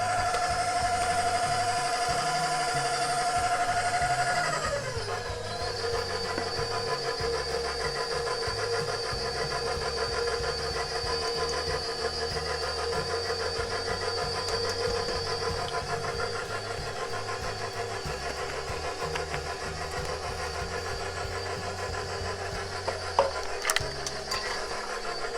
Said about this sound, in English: This is a new mixer, but she is loud, but she works.